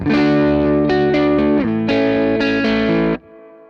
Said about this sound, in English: So you can hear when I stop playing, you can hear the reverb come back up.